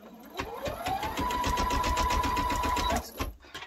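An embroidery machine stitches a child's hooded towel, its rapid, steady needle rhythm running loud and close for about two and a half seconds with a constant whine before stopping.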